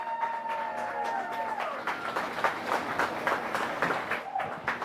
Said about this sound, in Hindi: आओ एक और बार तालियों की गड़गड़ाहट हो जाए।